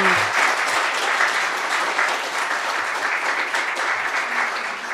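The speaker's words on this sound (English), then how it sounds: "let's give a round of applause to a wonderful group of readers" A poetry reading audience applauds a group of readers, a dense, steady wash of many hands clapping at close range that holds for the whole stretch without pause.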